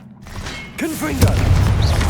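A Confringo blast spell explodes in Hogwarts Legacy, a loud booming burst with crackling debris that swells after a brief quiet start and rumbles on through the end, with a voice shouting over it.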